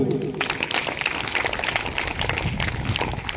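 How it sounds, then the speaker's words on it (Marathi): Burst of many hands clapping together in a yoga class after a pose, a scattered group applause of sharp claps lasting a few seconds, fairly close. "आसन झालं की टाळी वाजवायची."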